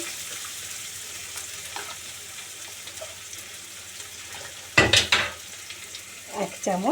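A pan of spice paste for boal fish curry sizzles softly while it is stirred, with a louder clatter of scraping near the end and a brief spoken phrase.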